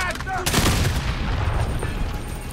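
Gunfire in Call of Duty Modern Warfare on PC: a loud burst of shots and a heavy impact, followed by a rumbling, dense tail of game combat noise.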